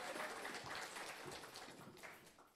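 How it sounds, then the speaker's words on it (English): A crowd at a Bridge showcase and awards event gives a round of applause, a faint, dense patter of clapping that gradually tapers off. "Round of applause,"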